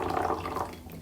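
Freshly boiled water is poured over tea leaves for a third steeping, a close, steady gurgling pour that fades slightly toward the end.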